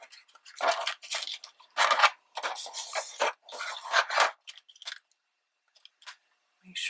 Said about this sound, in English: then fold the other score and burnish